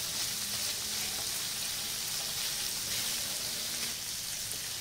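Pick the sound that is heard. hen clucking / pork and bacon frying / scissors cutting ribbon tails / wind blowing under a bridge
pork and bacon frying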